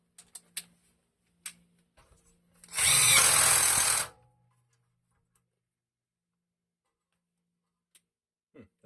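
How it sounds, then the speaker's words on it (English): A short power-tool burst of about one second tightens a head bolt on a Wisconsin Model AB engine, loud and close on a workbench, framed by a few faint clicks and taps in otherwise quiet surroundings. "let me actually tighten that head bolt back up"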